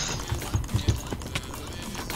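Horse hooves clip-clop in a few quick steps inside a Minecraft Hunger Games game, heard over steady background game noise.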